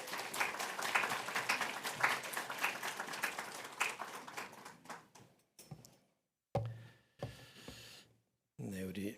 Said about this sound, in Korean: 다시 한번 우리 김태용 목사님 큰 박수로 맞이하겠습니다